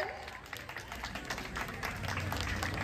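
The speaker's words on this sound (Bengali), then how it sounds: "একটা জোরে হাততালি হয়ে যাক সৃজার জন্য।" A crowd applauds a dance competition winner at a Diwali event, with steady dense clapping throughout the short clip and voices mixed in underneath.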